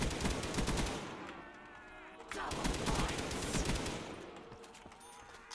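Rapid automatic fire from a light machine gun in Call of Duty Zombies, dense bursts of shots that crackle loudly, pause briefly and resume, with a voice talking faintly underneath.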